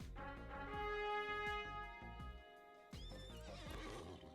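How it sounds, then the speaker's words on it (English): Horse in The Lord of the Rings Online video game gives a loud, close whinny with a long, wavering neigh, then a second shorter snorting call near the end, set against a musical game backdrop. "I think I'm gonna get off my horse."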